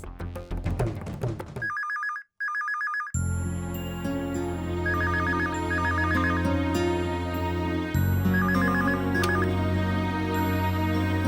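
A telephone rings in repeated electronic double bursts with brief pauses between them, set against a background music score in a Kannada TV serial scene.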